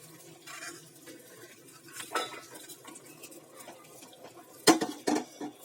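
A spoon stirs khichuri with boiled chickpeas and split pea lentils in a metal pot, making soft scraping and shuffling sounds that end in a few loud clanks and clinks against the rim.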